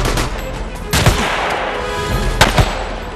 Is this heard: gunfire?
yes